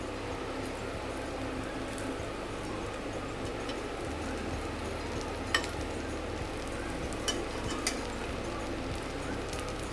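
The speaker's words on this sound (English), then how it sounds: "So now it's frying. You can see extremely little oil," Aloo tikki potato patties shallow fry in a pan with very little oil, giving a soft, continuous sizzle with a few faint ticks and pops.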